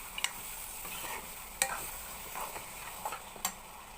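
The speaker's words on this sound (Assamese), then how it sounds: "মাংসটো অকণমান লৰাই দিছোঁ।" Goat meat is stirred in a frying pan over a soft, steady sizzle, with a few sharp spatula scrapes standing out now and then.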